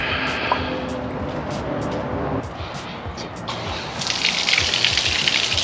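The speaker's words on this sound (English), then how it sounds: "Let's get some water on it." Steady rushing water flows continuously, loud and close, as a neglected Yamaha 9.9hp two-stroke outboard is primed, with engine-like rumble underneath and a brighter hiss rising near the end.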